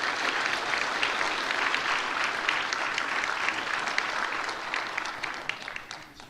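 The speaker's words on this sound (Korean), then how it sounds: "박수로 축하 격려하겠습니다" Congregational applause at a church service right after a worship-department leader's appointment, steady dense clapping from a crowd that holds for several seconds before thinning slightly at the end.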